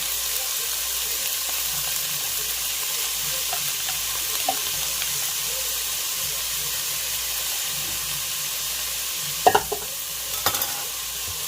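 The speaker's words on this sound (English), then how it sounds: "I'm gonna get some garlic in here right now" Garlic sizzling in a frying pan while making spaghetti, a steady close, soft frying hiss with faint stirring clicks near the end.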